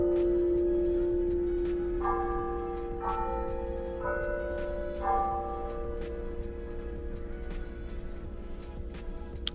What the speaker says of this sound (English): We love the University of Toledo's bell.